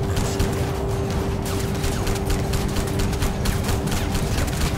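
A mounted turret gun fires in a steady, rapid stream during an on-rail section of the video game Crysis Warhead, loud and continuous with a constant background hum.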